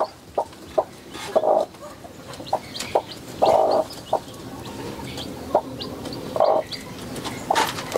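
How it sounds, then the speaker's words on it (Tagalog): Short repeated clucks from a free-range native hen, with high chirps of her chicks scattered throughout, fairly close and steady. "Ayan yung mga sisiw niya."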